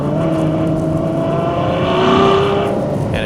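A 2020 Ferrari 812 Superfast accelerates after a downshift, its loud engine producing a steady, rising drone, heard close and with no talk over it.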